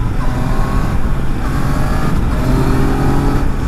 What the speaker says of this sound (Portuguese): Mas é a moto.